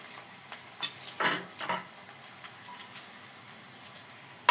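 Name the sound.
stirring rice with spices in a pan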